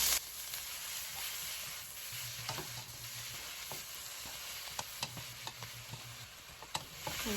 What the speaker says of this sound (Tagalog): Now let's cook our ground beef